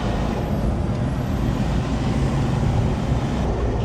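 Steady loud rumbling road and engine noise from a vehicle driving fast over rough off-road bends, a continuous roar from inside the cab with no clear pauses, consistent with hard braking.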